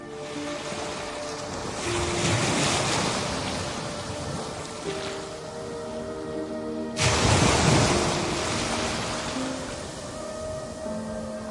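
Sea waves at Aberdeen Harbour roll in a steady broadband wash, swelling around two seconds and breaking loudly again near seven seconds, constant and close with no voices.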